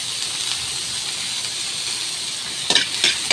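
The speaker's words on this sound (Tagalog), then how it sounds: "Nikos-nikos natin guys hanggang maging kunting brown" Garlic and tomatoes sauté in a hot pan for ginataang sardines, a steady sizzle and hiss with a few sharp scraping stirs near the end.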